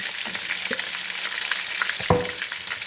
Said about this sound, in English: we're gonna saute this for a minute or two